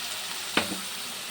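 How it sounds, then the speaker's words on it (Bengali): Raw banana and potato pieces frying in a pan give a steady, close sizzle, broken by a single sharp clink of a utensil. "এই কাঁচকলাটা আলুটা ভেজে নেব।"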